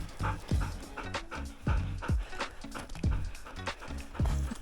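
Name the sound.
huskies, dogs on a walk in the snow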